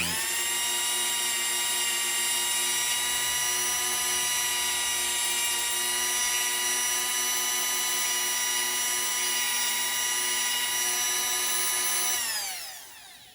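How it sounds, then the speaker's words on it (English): A Dremel rotary tool whines steadily at high speed while evening out a joint, one continuous close, loud run lasting about twelve seconds before spinning down at the end, with no talk. "I'm going to get the Dremel, and I'm just going to very carefully try to even that out"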